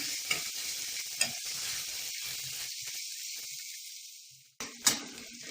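Chopped carrots frying with onions in a hot pan, a loud continuous sizzle and hiss with occasional stirring clicks, a brief quiet gap, then a fresh burst of sizzling.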